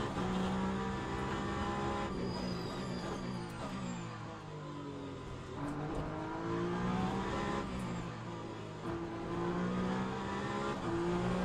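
A race car engine in the video game Le Mans Ultimate, revving up and down through gear changes with clear rising and falling pitch sweeps as the car brakes and accelerates through corners, heard alone.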